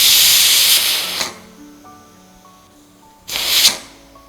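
A pressure cooker on the stove releases steam in two loud hissing bursts, each lasting about a second, with a quieter stretch between them, close by and with no talk.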